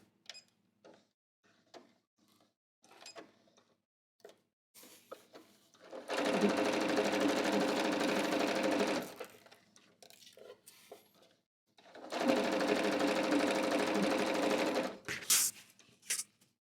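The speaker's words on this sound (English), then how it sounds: "Let's sew the other leg." A sewing machine stitches a pant-leg inseam in two steady, rapid runs of about three seconds each, close and clear, separated by quiet handling of the fabric and small clicks.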